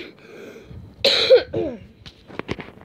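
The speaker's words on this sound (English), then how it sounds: "I've been coughing for a while." A person coughs several times close to the microphone, with a rough, throaty burst followed by smaller hacking coughs and throat clearing.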